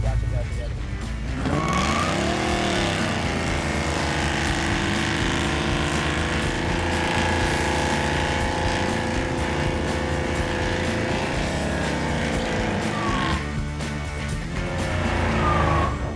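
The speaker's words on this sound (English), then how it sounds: "So I might have to just do a burnout." A 1971 Chevrolet El Camino does a tire burnout, its engine roaring loud and sustained for the whole stretch. The revs rise and fall, people talk over it, and a brief pause comes near the end.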